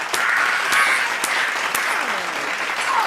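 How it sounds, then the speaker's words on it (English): A small group claps along in a casual room setting, steady overlapping applause with a few sharper individual claps and voices mixed in. "come on, clap"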